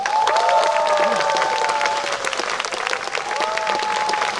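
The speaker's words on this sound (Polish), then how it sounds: "Brawa wielkie" Concert audience at the first festival in 2021 applauding a composer, a loud, sustained round of clapping with some cheering, layered with voices and sustained tones.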